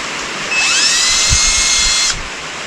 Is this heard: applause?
no